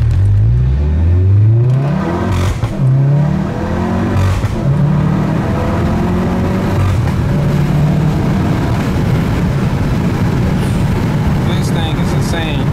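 A twin-turbocharged sports car at a car show accelerating hard in first gear, the engine note sweeping upward in a series of loud, close revs while people shout and cheer over it.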